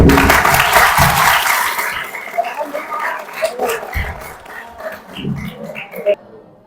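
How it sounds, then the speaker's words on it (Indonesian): Audience at an Indonesian school cultural diversity event bursts into loud applause that fades over several seconds, with scattered claps and voices trailing off near the end. "Tepuk tangannya dulu."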